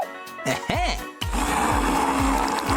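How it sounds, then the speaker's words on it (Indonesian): Kitchen blender pulsing peeled watermelon chunks for homemade ice cream, short whirring bursts and then a sustained grinding run, with people speaking over the motor. "Kita kupas di atasnya, lalu kita blender di dalamnya."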